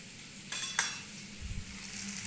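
Ground coriander and cumin spice tipped into hot oil in a pan for an okra curry, giving two sharp clinks of a spoon followed by a soft, steady sizzle and faint stirring.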